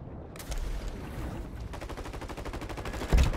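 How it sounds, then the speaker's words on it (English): Rapid automatic gunfire in a video game, aimed at a mech from up near City Hall, a steady stream of dense shots with a heavier burst at the end, with no talk over it. "Somebody up at City Hall trying to shoot the mech"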